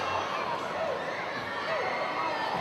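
Wrestling crowd in an arena murmuring and stirring after a chair is thrown into the ring, a steady roar of chatter and scattered cheers with a commentator talking over it.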